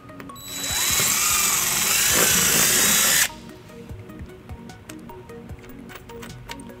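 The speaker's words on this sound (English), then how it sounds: "And then we'll drill our second hole." A power drill whines loudly up close for about three seconds while drilling a mounting hole in a 2018 Chevrolet Impala, then stops, leaving quiet clicks and handling noises.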